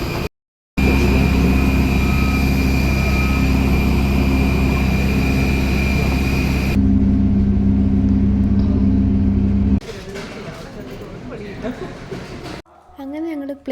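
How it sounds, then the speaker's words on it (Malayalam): An airliner lands on a flight from India to the Maldives. A loud, steady engine drone fills the cabin, then drops to a lower rumble with shifting noise as the plane slows. "ഏകദേശം ഒരു മണിക്കൂറിന് ശേഷം ഞങ്ങൾ ലാൻഡ് ചെയ്തു."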